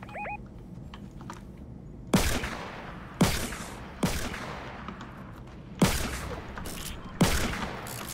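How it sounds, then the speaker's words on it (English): Shotgun blasts in a video game arena match, five loud booming shots at irregular intervals of about one to two seconds, each with a decaying tail, over quiet game ambience. "There's another kid on me with a shotgun."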